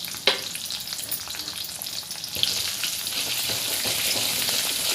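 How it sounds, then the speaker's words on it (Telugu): Chana dal, urad dal, mustard seeds and cumin hit hot oil with a sharp initial crackle, then settle into a bright, steady sizzle with scattered pops, loud and close with no talking. "ఆయిల్ వేడైన తర్వాత శనగపప్పు, మినపప్పు, ఆవాలు, జీలకర్ర వేసుకోవాలి."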